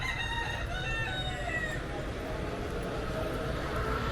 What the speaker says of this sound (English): I can hear chickens.